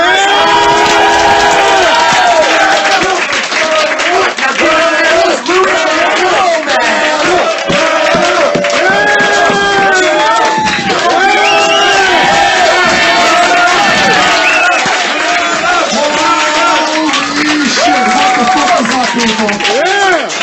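A packed comedy club crowd at a roast battle show cheers, whoops and claps loudly and steadily. Excited shouting voices carry through the whole stretch.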